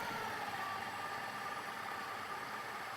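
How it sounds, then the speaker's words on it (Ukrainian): A food processor running at its lowest speed, chopping cold butter into a dry mixture for a layered cake, giving a steady, even motor whir that stays constant and moderately faint for the whole stretch, with no voices. "Увімкніть комбайн на найнижчі оберти."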